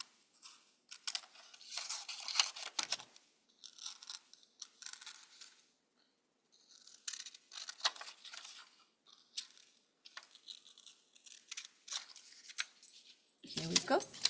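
Scissors snip through a magazine page in short bursts of crisp cutting and paper rustle, with brief pauses between runs, close and fairly quiet.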